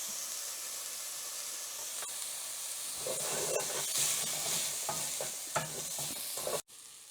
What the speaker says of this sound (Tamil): வெங்காயம் வதங்கட்டும், ஒரு 2 நிமிஷம் ஆகட்டும்